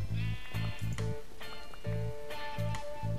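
Sheep in the Minecraft video game bleat in short, repeated bursts while being sheared, several clear, close calls with brief gaps between them.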